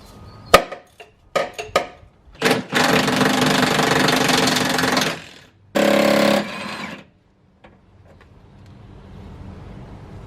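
Power tool working loose the motor mount bolts and ground strap from the frame rail of a BMW E34 with an M50 engine and automatic transmission, several short sharp bursts, then two sustained loud runs, close and with no talking.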